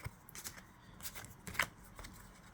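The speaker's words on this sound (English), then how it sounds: "let me take some of these cards away" Disney Villainous game cards are shuffled and slid apart by hand, a series of soft, close riffling and flicking bursts with short pauses between them and no talk.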